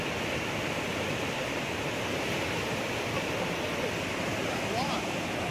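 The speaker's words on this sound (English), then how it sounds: "The water coming over the top of this tree is really violent" The raging Coquihalla River pours violently over a fallen tree, making a dense, continuous roar of rushing water that is loud and close and never lets up.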